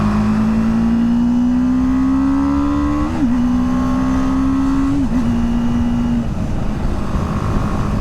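A BMW G310R single-cylinder motorcycle hums loudly and steadily while riding, its pitch rising gradually with two quick dips as gears shift, under constant wind rush.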